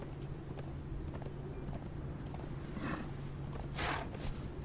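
A horse walks in the video game Conan Exiles, its hooves giving soft, uneven clip-clop steps over a low ambient game background, with a couple of brief brighter noises toward the end and no speech.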